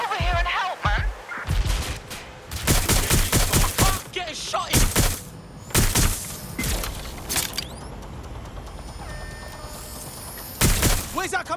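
Gunfire rings out in Watch Dogs: Legion as sharp, loud shots come in clustered bursts with short gaps, while shouting voices come and go between the volleys.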